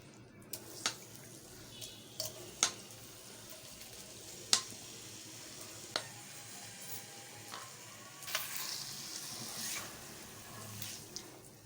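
Marinated chicken sizzling in about two teaspoons of oil in a pan, a soft steady fry punctuated by sharp crackles and pops and a few clinks of stirring, with no talking.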